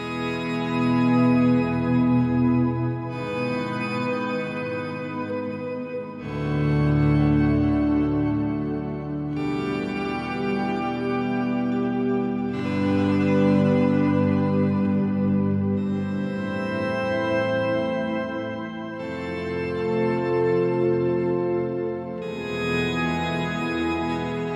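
Ambient guitar swells processed through Guitar Rig 6 plugins, with pitch-shifted layers: sustained, harmonically rich chords that fade in and bloom in successive waves, steady and fairly loud with no talking.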